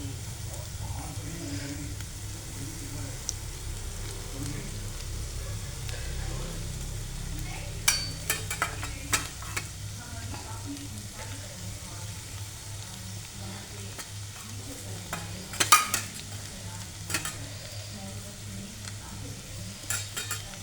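Poha frying with dried fish in a pan, stirred with a metal spoon: a steady sizzle runs throughout, with scraping and sharp clinks of utensil against the pan, busiest in two clusters.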